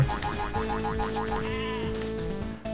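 Cartoonish sheep bleats in the video game Spyro: Season of Ice, a rapid series of wavering, warbling bleats up close, followed by a springy boing-like tone, with no talking.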